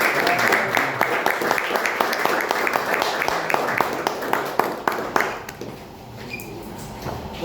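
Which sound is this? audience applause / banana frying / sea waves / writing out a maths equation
audience applause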